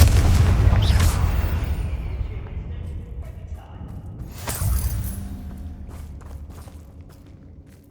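Confringo spell blasts in the Hogwarts Legacy video game: a loud booming burst at the start, a second heavy impact about midway, then debris and fading rumble.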